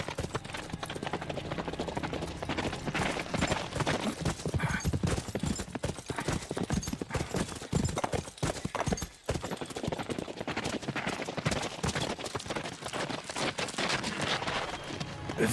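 Horses gallop hard in a dramatic period scene, hooves clattering in a dense, fast, continuous clip-clop, with a whinny and distant gunfire-like bursts mixed into the noisy action.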